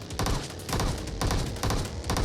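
Rapid bursts of video game gunfire in a Jujutsu Kaisen mod, loud and close, coming in several dense volleys with brief gaps between them.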